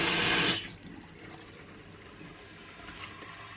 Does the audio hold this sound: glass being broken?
no